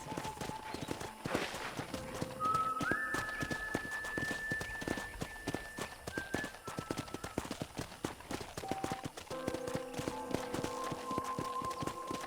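Horse hooves clip-clop steadily in the Western video game Red Dead Redemption, a close rhythmic walking gait over a faint ambient backdrop with a brief whinny-like tone.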